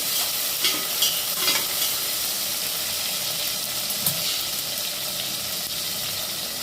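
Tomatoes are sautéed with ground coriander and pepper powder in a pan. A continuous close sizzle is broken by a few louder scraping knocks of a spoon stirring the mixture.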